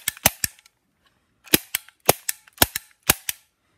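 A toy dart pistol fires in a series of sharp snapping cracks, three quick shots, a short pause, then several more spaced bursts, close and loud with no talking.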